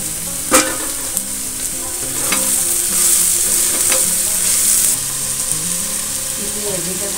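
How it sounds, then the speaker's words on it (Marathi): Vegetables with capsicum and spring onion greens stir-fried for veg fried rice, a loud continuous sizzle close by with a few sharp clacks of a spatula scraping the pan. "आता आपण त्याच्यामध्ये कांद्याची पात टाकूया"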